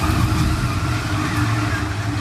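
A NASCAR Cup race car spun at Daytona or Talladega grinds and scrapes along the pavement, a loud, dense, continuous roar and rasp with steady engine noise mixed in.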